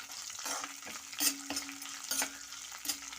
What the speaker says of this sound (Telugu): పచ్చిమిరపకాయలు వేస్తున్నానండి. ఒకసారి కలిపేసుకుంటున్నాను.